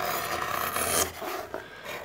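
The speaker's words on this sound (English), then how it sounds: "the evenness of the cut is dependent on my ability to guide the gouge, you know, by adjusting the angle" A wood gouge carving the inside of an archtop guitar plate, rasping scrapes in short strokes close by with a sharp cut around the middle, no talking.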